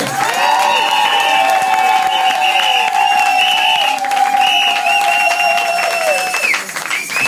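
A church congregation at a French-speaking service claps loudly and cheers, dense sustained applause with a strong, held musical tone sounding over it throughout.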